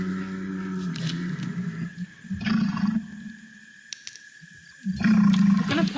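Designed roar of a bog beast, deep rumbling growls in three bursts separated by quieter gaps, with a low ambient bed of swampy atmosphere underneath.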